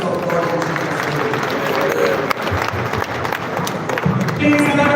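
Crowd applause at a live event honouring a Minister of State for Labor and Employment, dense steady clapping filling the whole stretch with voices mixed in, fairly loud and continuous throughout.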